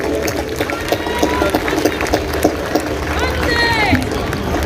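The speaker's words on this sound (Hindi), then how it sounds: "उनके लिए एक बार हम विशेष ताली बजाकर" An audience claps at the inauguration ceremony of the North Mumbai MP Sports Festival 2025, producing sustained, dense applause with crowd noise and a few rising whistle-like tones toward the end.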